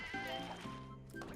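Sheep bleat repeatedly in the puzzle video game Divide by Sheep, wavering cries layered over game background music, with no one speaking over them.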